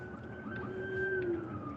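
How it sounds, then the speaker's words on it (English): A passing emergency vehicle siren wails in a long steady tone that rises slightly and then falls away, heard at moderate distance over road and car noise. "I hear sirens."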